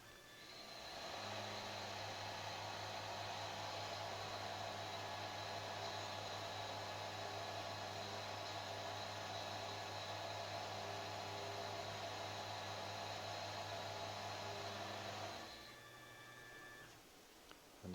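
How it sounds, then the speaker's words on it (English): A machine tool cuts a hole in a brass puzzle piece, a steady loud whirring hum with sustained tonal lines that runs evenly for about fourteen seconds, then spins down to a quieter background. "the last operation in brass is cutting the hole for the 6th part, which has no pockets, just gets a hole for a little pin later"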